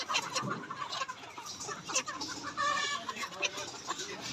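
Layer hens on a poultry farm cluck in scattered, overlapping bursts at close range, a busy flock chorus with faint background noise.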